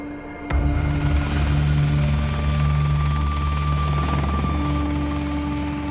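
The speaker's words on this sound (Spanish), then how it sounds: "no sabemos seguro de quién es ese helicóptero" A helicopter flies over an Afghan valley, its steady rotor throb and engine drone loud and continuous after a sharp onset, holding level throughout without speech.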